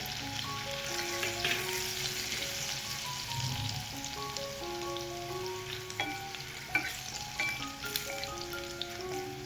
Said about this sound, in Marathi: आणि लसूण चांगला आपला खरपूसारखा भाजून घ्यायचा आहे